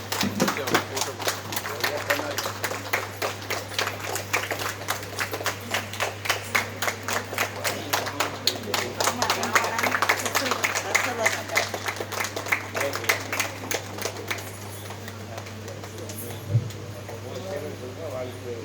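Audience applause at a Bharatanatyam dance recital in Srirangam: dense, steady clapping from a crowd lasting throughout, fairly loud and close, with a faint steady hum underneath and a brief louder thump near the end.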